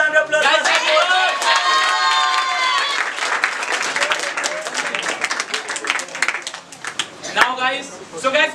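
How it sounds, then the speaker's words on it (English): A birthday celebration at an English café brings a group's cheering voices followed by lively, close clapping with scattered sharp claps, and a few shouts breaking in toward the end. "let's have a huge round of applause"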